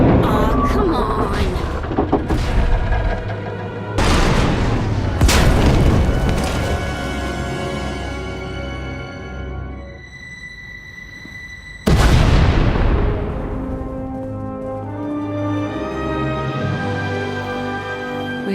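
Heavy booming blasts and rumbling impacts in a loud soundscape from the game Knights of the Eternal Throne as a tunnel collapses, with sudden bursts, a quieter ringing lull, then another big explosion.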